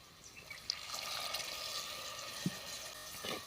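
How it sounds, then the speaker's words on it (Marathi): Water poured into tomato masala cooking in a pan for an old-style vegetable dish, a soft continuous pour and trickle lasting a few seconds, fairly quiet and close, with no talking. "आता यामध्ये आपण पाणी टाकूया थोडंसं."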